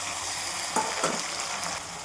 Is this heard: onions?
yes